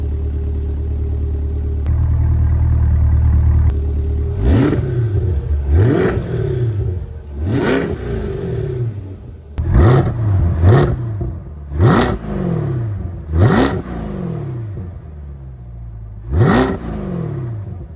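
A Corvette C8 sports car engine idles, then revs sharply again and again, each blip rising and falling back, loud and close with a throaty exhaust note.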